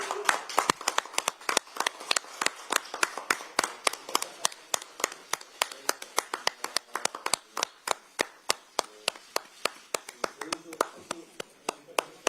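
Steady, brisk applause from an audience at a Korean Democratic Party recruitment ceremony welcoming new members, many hands clapping close and dense for several seconds.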